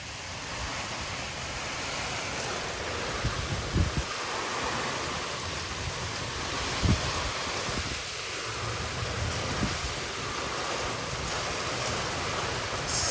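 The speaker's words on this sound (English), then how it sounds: "I'm talking very loudly because of how loud this rain is." Heavy rain pours during a severe thunderstorm in Frisco, Texas, a dense steady hiss of downpour with occasional thumps as wind gusts push through.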